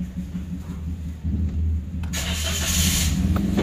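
A 2018 Toyota Wigo engine cranks and catches, the starter's brief whir giving way to a steady, close idle rumble that settles and holds to the end.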